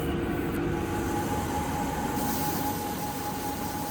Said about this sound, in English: I'm flattening the faces on the belt sander.